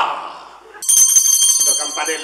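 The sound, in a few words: small bell ringing on stage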